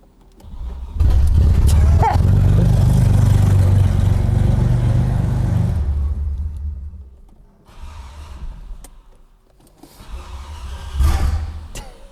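A rare Audi 90 Quattro Sport with a stuck clutch starts up and its engine runs loud and close for several seconds, then drops back and revs again in short bursts with brief mechanical clunks.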